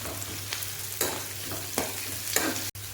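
Prawns sizzle loudly in a hot pan with turmeric, ginger and garlic as amaranth leaves go in. A steady frying hiss runs throughout, broken by several sharper bursts as the food is stirred and tossed, then one brief dropout near the end.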